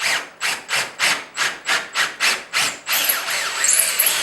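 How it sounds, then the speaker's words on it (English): A drill bores a hole through a bass boat's rub rail and deck with about nine rhythmic back-and-forth strokes, each a rasping burst, then settles into a continuous grinding whine near the end. "I'm going to drill the hole through the rub rail through the deck."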